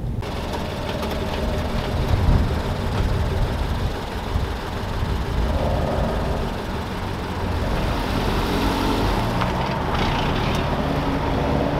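Manual-transmission car engine droning steadily from inside the cabin as a learner works the clutch and gas, a loud continuous rumble with slight rises in revs, no talk over it.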